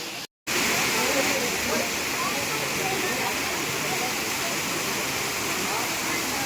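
Water pouring steadily at the Anjanadevi temple in Tirumala, a constant broadband rush like a small waterfall, loud and close, continuing without a break after a very brief dropout at the start.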